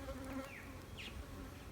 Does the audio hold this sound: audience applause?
no